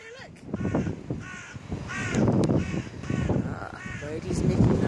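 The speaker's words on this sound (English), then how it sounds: "Birdie's making noise in the trees." A crow caws repeatedly from the trees, with harmonic calls rising and falling in close succession against steady background noise and a voice in the mix.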